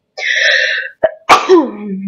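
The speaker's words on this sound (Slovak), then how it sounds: "Prebačte, ale kýchol som si" A loud, close sneeze sounds out after a brief inhale, followed by a voiced trailing sound, all heard alone without other talk.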